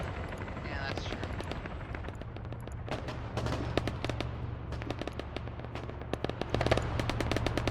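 Rapid cracking gunshots in a military wargame between Livonia and NATO forces, sharp and fairly distant, crackling in irregular bursts over a low steady rumble with voices talking.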